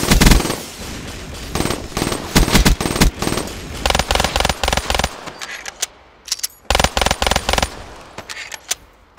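Loud, close bursts of automatic gunfire in a shooter game, coming in several rapid rattling volleys separated by brief pauses, with no talking.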